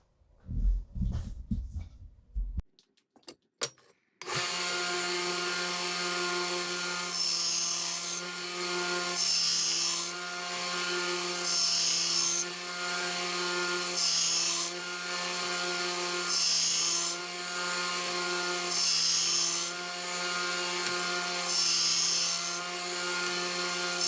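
A belt grinder with a coarse 40-grit belt grinds bevels into a knife blade, a loud steady motor whine with rasping grinding that swells and eases in regular passes, after a few brief handling clatters at the start.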